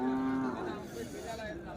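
A cow lets out a short, loud moo at a native cattle market in Kundarapalli, followed by a fainter moo, with crowd chatter and voices in the background.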